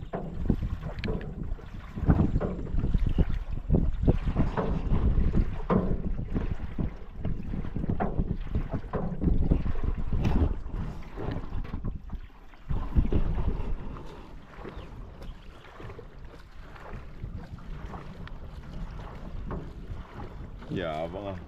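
A paddled boat moves fast along a river, water splashing and rushing with wind buffeting the microphone, while people chat nearby over the steady churn.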